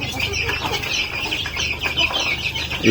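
Native chickens and their chicks, some chicks pecking at one another, cluck and peep continuously at close range, a busy overlapping chorus of short calls with no talking.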